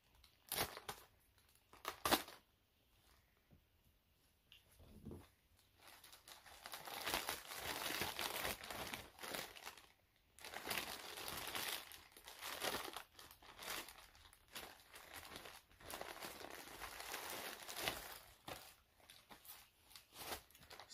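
Crinkling plastic packaging while Supreme summer tees are unboxed, with a steady close rustle and crumple that rises and falls, plus a few sharp handling bumps early on.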